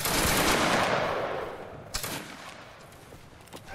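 In a video game, troops fire a volley, starting with a dense, loud burst of many gunshots at once. It thins into a trailing rumble with a few scattered later shots.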